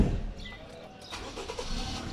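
A 2016 Toyota Premio G Superior engine cranks and catches about a second in, then settles into a steady mid-pitched idle heard up close from inside the car, with no talking.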